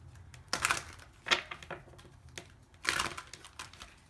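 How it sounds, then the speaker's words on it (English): Tarot cards shuffled by hand at close range, giving short papery riffling bursts in a few uneven clusters against a quiet background. "Do one more shuffle."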